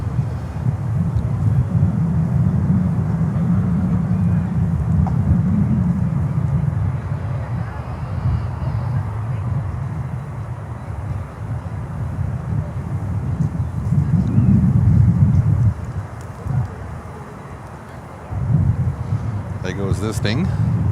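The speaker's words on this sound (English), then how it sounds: "DHL 777 just taken off and going to Cincinnati" A DHL Boeing 777 cargo jet takes off at Miami airport, heard as a steady low roar that swells and fades over the whole stretch, with wind buffeting and a person talking over it.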